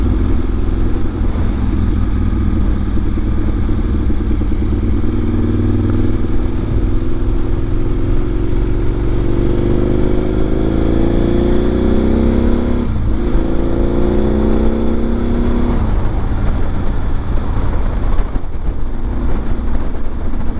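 Onboard an Aprilia motorcycle on the Isle of Man TT course, the engine drones steadily under heavy wind rush, rising in pitch through acceleration with a few shifts, close and continuous without speech.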